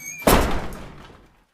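A door slams shut with a single loud, close thud, followed by a short fading rumble and then quiet.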